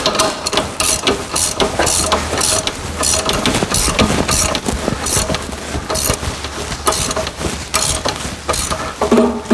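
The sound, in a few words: tightening plow mount bolts on a UTV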